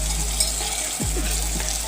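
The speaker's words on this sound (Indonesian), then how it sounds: "Goreng hingga kekuningan." Food sizzles steadily in a hot frying pan, a continuous close crackling hiss with a few faint stirring scrapes and no talking.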